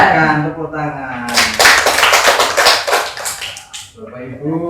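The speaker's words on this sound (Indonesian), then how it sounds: "Tepuk tangan." A room of teachers bursts into a short round of hand clapping, a couple of seconds of brisk, close applause framed by a speaking voice before and after.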